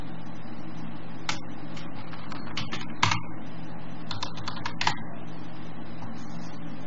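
Keys clatter on a computer keyboard as a command is typed into an Ubuntu terminal, irregular close clicks in short bursts over a quiet fan hum, with no speech.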